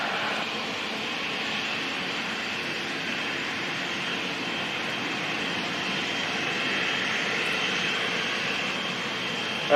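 Jet aircraft engines roar steadily during a departure at London City Airport, a broad, loud, continuous rumble and whine holding for about ten seconds with no talk.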